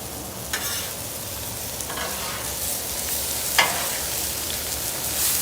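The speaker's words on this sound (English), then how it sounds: "right there is brown buttery goodness is what I'm scraping up off of that grill" A metal spatula scrapes browned butter, sausage and cabbage across a hot Blackstone griddle amid a steady sizzle, with a few sharp scraping strokes close by and no talk.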